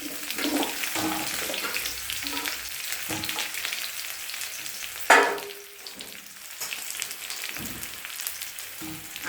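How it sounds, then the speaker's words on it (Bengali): Chopped onion and potato fry in hot oil, with a constant sizzle under intermittent stirring scrapes and one sharper clatter midway, after which the hiss settles a little quieter. "যে তেল গরম হয়ে গেছে, দিয়ে দিলাম অল্প পেঁয়াজ কুচি"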